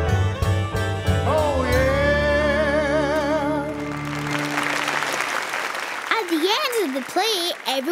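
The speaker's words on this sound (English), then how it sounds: "everyone clapped" A crowd bursts into clapping and cheering that swells loudly, with a voice singing over the noise before it thins into scattered claps.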